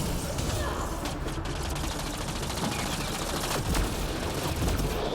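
Dense gunfire rattles nonstop in Mass Effect Andromeda, rapid overlapping bursts of automatic shots forming a loud, continuous firefight.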